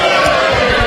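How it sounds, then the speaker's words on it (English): Members of a state parliament chamber cheer together in a loud, dense crowd roar of shouts and whoops that fills the whole short moment without letup. "I was surprised to hear the cheer coming from this side"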